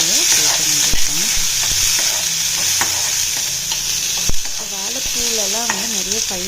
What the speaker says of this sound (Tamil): இந்த வெங்காயத்தை போட்டு லைட்டாக சாட் பண்ணிவிட்டு அதுக்கப்புறம் நம்ம வந்து வாழைப்பூவை போட்டு வந்துருக்கோம்